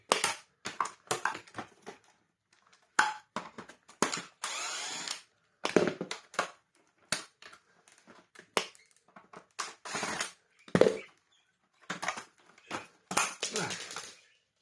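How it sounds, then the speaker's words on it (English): A power tool backs out six screws from an Ewbank Motion EW3001 vacuum cleaner, giving a series of short, close, sharp whirring and grinding bursts separated by quiet gaps. "We've got to remove 1, 2, 3, 4, 5, 6 screws"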